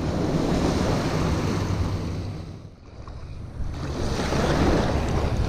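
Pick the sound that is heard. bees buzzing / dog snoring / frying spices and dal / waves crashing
waves crashing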